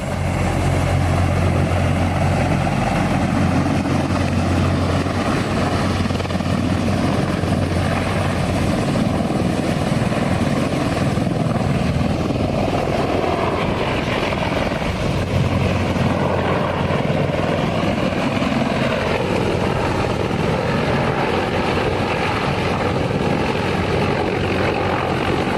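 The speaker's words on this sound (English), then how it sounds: "This military helicopter had to make an emergency landing on a beach after the pilots got a low oil pressure" A military helicopter sets down on a beach after a low oil pressure warning, its rotor and turbine drone steady and loud throughout with a low engine hum and broadband rotor wash, no voices.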